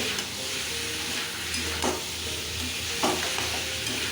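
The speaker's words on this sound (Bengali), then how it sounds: "সব কিছু একসঙ্গে দিয়ে দিলাম, পনির ভাজা, আলু ভাজা দিয়ে ভালো করে কষে নেব" Fried paneer and fried potato sizzle steadily in a pan while being stirred, a continuous close frying hiss with a couple of brief scraping stirs standing out.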